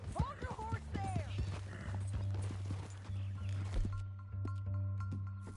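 Horse hooves clip-clopping in Red Dead Redemption 2, with a horse whinnying and a low droning tone under the steps, moderately loud, with speech mixed in.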